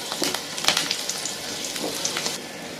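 Green chilies frying in a pan of oil for a liver masala fry, a steady crackling sizzle with brief louder pops, close and continuous throughout.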